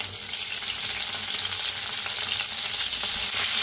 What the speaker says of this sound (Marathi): आता टाकायचं आहे त्याच्यात मिरच्या लसूण दोन्ही बी टाकायचं आहे